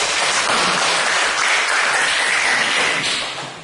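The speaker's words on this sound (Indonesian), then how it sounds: "Bisa diberikan aplaus dulu nak." Schoolchildren in a maths classroom applaud loudly and steadily, a dense burst of clapping lasting a few seconds and fading slightly at the end, with no talking.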